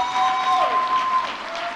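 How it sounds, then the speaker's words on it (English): A seated audience at a San Antonio mayoral debate claps together, a brief, steady burst of applause heard at moderate distance with a faint tonal whistle over the start. "How about a round of applause?"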